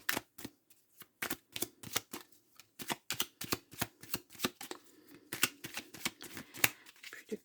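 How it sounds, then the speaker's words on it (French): Tarot cards are cut and shuffled by hand, giving a steady run of quick, close, papery taps and flicks in a tight, even rhythm throughout, with no talking. "Plus de cartes, je vais vous faire une petite coupe."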